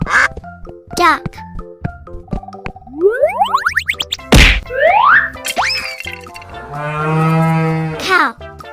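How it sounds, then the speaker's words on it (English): A cartoon cow moos in a children's animal song, a drawn-out low moo near the end, set among bouncy music, boing effects and other cartoon animal sounds. "cow"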